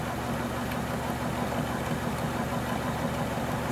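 A prime mover engine runs steadily at about 370 RPM, a loud, constant low drone with an even mechanical throb and no change in pace, heard alone without speech.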